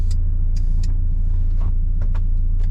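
A Mazda MX5 Miata on air ride suspension driving, its engine rumbling low and steady from the cabin, with a few light clicks and rattles over the drone.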